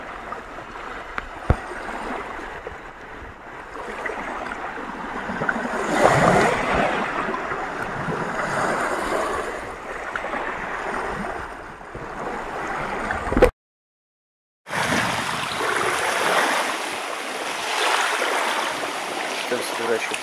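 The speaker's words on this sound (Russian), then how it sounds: "Волны, волны! Волны," Waves lap and wind gusts steadily on open water during a boat trip, a continuous broad wash at moderate level with a brief cut partway through.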